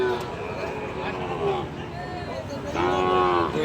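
Sahiwal cattle at a livestock market in Joypurhat low out in several drawn-out moos, one rising near the end, over a steady babble of market crowd noise and nearby voices.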